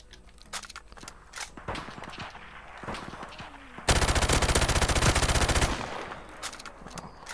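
Gunfire in the video game Call of Duty Modern Warfare: scattered single shots and clatter, then a loud sustained automatic burst lasting about two seconds, followed by a few more isolated shots.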